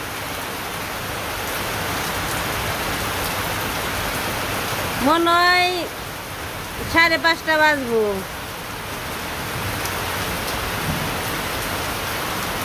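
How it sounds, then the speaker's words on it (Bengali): Heavy rain pours down steadily, a dense, even hiss that lasts the whole time, while a person speaks briefly in the middle. "যেভাবে বৃষ্টি নামছে রান্না করে যাইতেও পারুম না"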